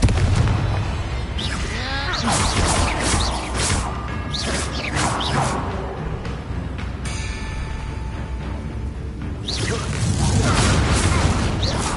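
Confringo and Bombarda spell explosions in Hogwarts Legacy, a series of booming blasts and crashing impacts spread through the clip amid clattering game effects.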